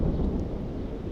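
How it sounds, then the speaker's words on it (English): Thunder rumbles among the mountains around a Jungfrau campsite as a low, steady, distant roll lasting the whole short stretch. "that is thunder, if you can hear that"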